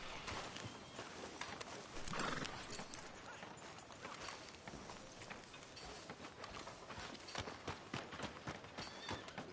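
Horse hooves clip-clopping with a whinny in the Red Dead Redemption 2 video game, a steady run of close hoofbeats with an outdoor ambience behind them, with no talking.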